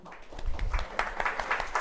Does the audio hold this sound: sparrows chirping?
no